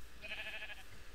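A single drawn-out sheep bleat from the Minecraft video game, clear and fairly close against a quiet background, lasting about half a second.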